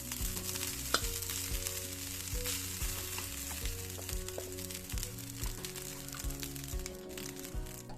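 Freshly cooked, still-hot rice fries in a pan for fried rice, giving a steady, close sizzle with occasional scraping and stirring knocks throughout.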